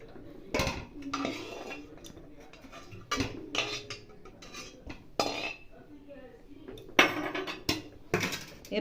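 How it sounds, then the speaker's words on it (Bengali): Cooked chicken pieces being lifted from a pot onto a plate with a slotted spoon, a series of separate metal clanks and scrapes spaced a second or two apart, close and moderately loud. "এরপর এর থেকে চিকেনগুলো আছে এটা তুলে নেব। এটা ছান্তার সাহায্যে তুলে নেব থালায়।"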